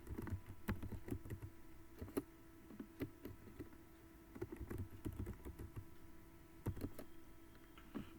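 Commands are typed into the Vim editor on a computer keyboard: irregular bursts of close key clicks and heavier thumps, quiet, with pauses between runs and no voices.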